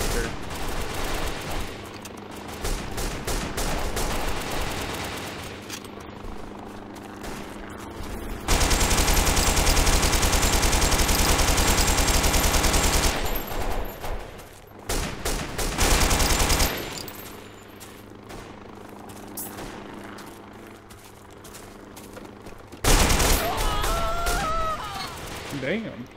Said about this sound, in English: Oh boy, I hear a helicopter.